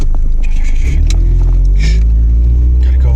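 A car pulling away from a green light, a loud, close, steady engine rumble from inside with the revs rising slightly and a few faint scrapes and clicks over it.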